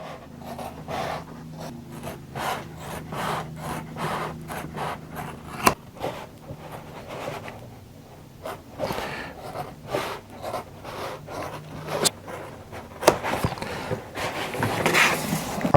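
Regular office scissors cut through EVA foam in a series of close, crisp snips that come in uneven bursts, with small handling noises between cuts and no talking.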